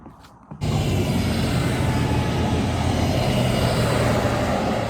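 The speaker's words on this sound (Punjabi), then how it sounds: "ਲੋ ਜੀ ਆ ਵਾਲੀ ਟ੍ਰੇਨ ਆ ਇਹ ਬ੍ਰੇਸ਼ੀਆ ਤੋਂ ਆਉਂਦੀ ਆ" A loud, steady rumble rises abruptly after a brief quiet moment and roars on continuously as a train from Brescia passes close by near a mountain village around Vello and Toline, Italy.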